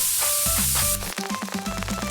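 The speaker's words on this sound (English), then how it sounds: "Spray the bug repellent on the log." Bug repellent sprayed onto a log in a cartoon camping video game: a steady, bright hiss for about a second, playing over light game music that carries on with plinking tones afterward.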